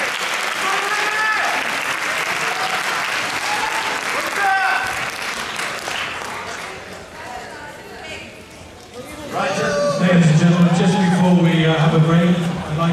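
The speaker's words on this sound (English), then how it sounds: "Let's give them a big round of applause." A crowd at a bodybuilding prejudging applauds steadily throughout, a dense wash of clapping that swells louder near the end, with a voice speaking over it early on.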